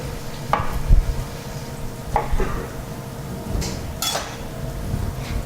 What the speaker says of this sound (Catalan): Remenem i ho deixem a foc mínim fins que s'acabi la cocció